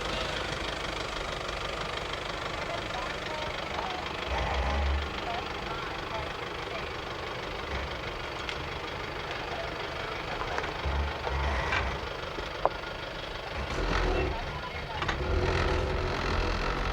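Toyota Fortuner 4x4 engine droning steadily at low revs while crawling down a steep section during a 4x4 club challenge, with wind and rumbling bumps throughout and a voice talking over it.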